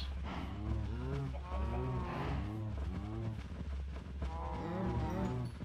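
Cows moo repeatedly in the video game Minecraft, a series of low, drawn-out lowing calls in quick succession, several overlapping animals heard close and clear.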